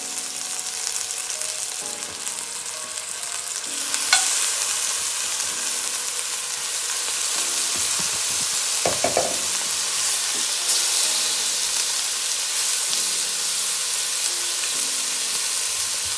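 Oxtail pieces fry in a hot pot for Jamaican oxtail, a loud, steady sizzle and hiss throughout, with brief clinks and a stir partway through, and no voices.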